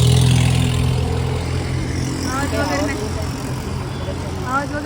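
A motorbike engine hums and revs up steadily, fairly close, with people talking over it.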